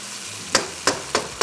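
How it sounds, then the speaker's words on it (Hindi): Egg roast masala gravy for Kerala-style egg roast frying hard over high heat, a steady close sizzle broken by four sharp scraping stirs of the spoon through the pan. "तेज़ आंच पे फ्राई करते गए।"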